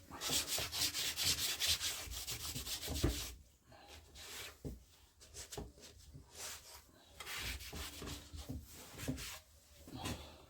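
A cloth rubbing back and forth across a wooden keepsake box in steady scrubbing strokes, close and fairly quiet, with a few brief pauses.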